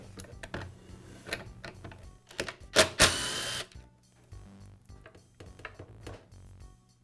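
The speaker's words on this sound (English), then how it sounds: "I'll begin by removing the old lower guard lever. The lever is secured with a single screw." Single screw being backed out of the lower guard lever on a Milwaukee metal-cutting saw: close, light metallic clicks and tool ticks scattered throughout, with a brief louder scraping rattle near the middle, no talking.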